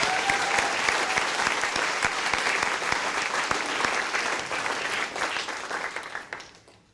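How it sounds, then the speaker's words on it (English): A room full of people at a high school poetry slam claps steadily for several seconds, dense and lively, then tapers off and fades out. "Applaud for the poet, everyone."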